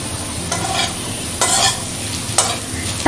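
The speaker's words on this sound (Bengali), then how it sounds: "আলুগুলোকে একটু টাইম নিয়ে ভাজতে হবে যাতে আলুগুলো মশলার সঙ্গে ভাজার সময় সেদ্ধ হয়ে যায়" Potatoes fry with spices in a pan, a steady close sizzle broken by several louder bursts of stirring scrapes.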